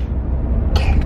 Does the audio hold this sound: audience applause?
no